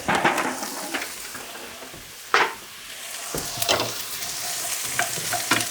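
Chopped vegetables sizzle loudly in a hot non-stick coated pan while a non-metal utensil stirs and scrapes them, with bursts of crackling frying and occasional sharper stirring sweeps, and no voices.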